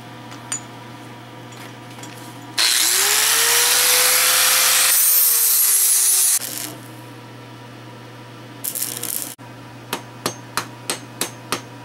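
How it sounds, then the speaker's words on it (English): Power grinder working down a washer welded onto a tactical walking stick, a loud continuous close whine of metal grinding lasting about four seconds, its pitch dipping as load changes, followed by quieter clatter and a run of sharp hammer-like taps. "now I'm going to grind it down all the way around, weld it up, and fill that hole"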